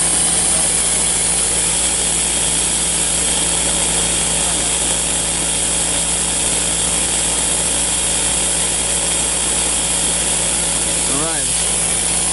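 A compressor pumps wood gas toward about 80 PSI, giving off a loud, unbroken mechanical drone that stays steady throughout.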